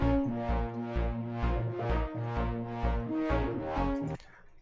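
Two synth leads play over a bass line in FL Studio, the track built for a tribal dance drop, with rhythmic pulsing notes repeating steadily before cutting off near the end, loud and without voices.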